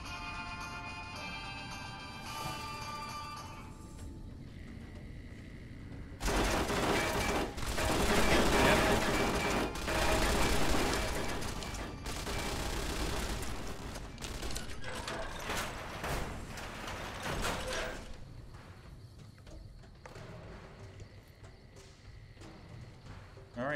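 Turrets open fire in Fallout: New Vegas, a sustained rattling burst of rapid gunfire lasting over ten seconds, loud and close, before fading back to quieter mechanical game sounds.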